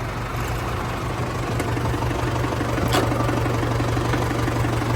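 A tractor stuck in a muddy field revs as it pulls free, running close by with a steady, heavy low rumble, holding an even pitch with no voices.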